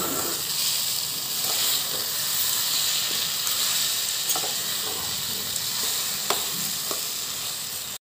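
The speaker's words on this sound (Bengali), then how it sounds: "এবার গুড়গুলো দিয়ে দিচ্ছি। লো ফ্লেমে ভালো করে নাড়িয়ে নেব।" Jaggery stirred in a pan over a low flame while raw mango pickle cooks, giving a steady close sizzle and hiss with occasional soft scrapes of the spoon, continuous for about eight seconds.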